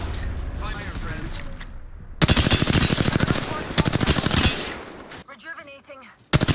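Rapid automatic gunfire bursts in the video game Apex Legends, loud and close, in several sustained volleys separated by brief pauses, with game voices and speech heard between the bursts.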